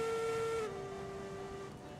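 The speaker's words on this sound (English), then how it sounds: "I really wish the whistles would echo through the valley" A steam locomotive whistle in the train game Railroads Online gives a steady, sustained tone, loud at first, then dropping to a softer held note that ends with no echo after about two seconds.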